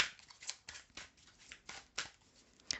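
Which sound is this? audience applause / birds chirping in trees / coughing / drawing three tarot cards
drawing three tarot cards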